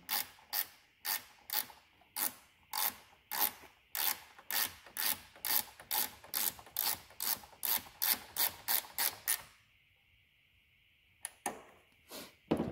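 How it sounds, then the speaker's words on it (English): Ratchet wrench with a 10 mm socket tightening 10-32 nuts on a Jeep winch relay: about two dozen close, crisp bursts of clicking in a steady rhythm, then a brief pause before a few final clicks. "Ratchet wrenches are very nice. Quicker and easier to get this done."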